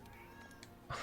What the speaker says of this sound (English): Can you guys hear my cat meow?